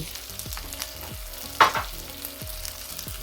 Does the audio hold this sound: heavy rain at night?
no